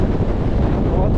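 Strong wind buffets an exposed mountain summit on an e-MTB ride near Sunbilla, a loud continuous rumble battering the microphone for the whole moment.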